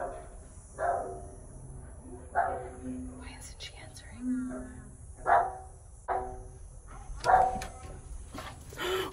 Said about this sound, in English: They have a dog.